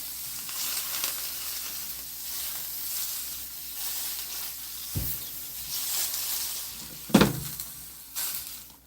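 Meat searing in a pan at the start of an Irish stew, a steady soft sizzle through the whole stretch with a few sharper clatters of utensils against the pan, no voices.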